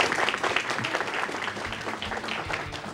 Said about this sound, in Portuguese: Pode aplaudir, né, gente?